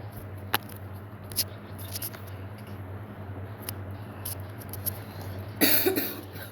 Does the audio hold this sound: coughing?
yes